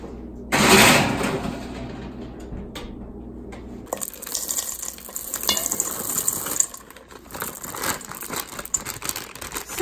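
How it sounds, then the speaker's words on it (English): Vegan dark chocolate chips pour from a bag into cookie dough, a loud rattling rush at first, then softer crinkling of the bag and mixing noises continuing steadily. "I went ahead and added in the entire bag of the vegan dark chocolate chips"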